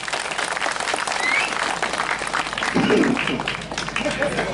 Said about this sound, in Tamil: ஒரு கைதட்டு கொடுக்கலாம் தம்பி.